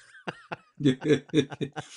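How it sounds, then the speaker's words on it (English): A person with hay fever coughs during a podcast interview: two small catches, then a run of heavier, rough coughs in quick succession, close and fairly loud. "a cough kind of gets in the way"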